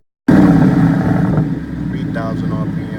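A Ford Mustang Boss 302 with a factory restrictor plate fires up from cold and holds a loud, close, rumbling idle that rises as it is revved, with someone talking over it.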